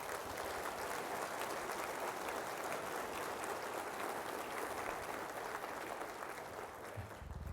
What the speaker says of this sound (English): if I can give them a round of applause